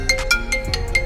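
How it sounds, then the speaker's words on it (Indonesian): A used iPhone plays its ringtone through the speaker as a sound test, a loud, close sequence of bright, evenly spaced chime notes in quick rhythm, with no talking. "saya ngecek suara nih di nada dering"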